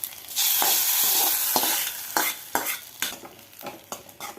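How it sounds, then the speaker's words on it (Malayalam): Mustard seeds and curry leaves crackle and sizzle loudly in a spoonful of hot coconut oil, sharp pops breaking through a steady frying hiss, then a spoon scrapes and stirs through the tempering. "ഒരു ടീസ്പൂൺ കടുക് ഒരു ടേബിൾ സ്പൂൺ വെളിച്ചെണ്ണ വെച്ച് കുറച്ച് കരിയേപ്പില ഇട്ട് വറവിലേക്ക് ഒഴിച്ച് കൊടുക്കാം"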